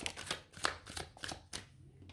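Tarot cards being handled and shuffled, several quick papery riffles and slaps in an uneven rhythm, close and fairly quiet, with no talking.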